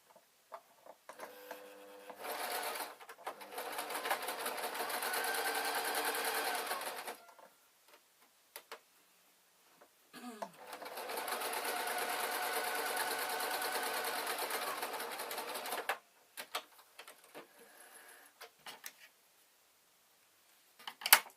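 A domestic sewing machine stitches a dress bodice in two long steady runs of rapid, even whirring and clicking, separated by quiet pauses and light handling noises, with no talking.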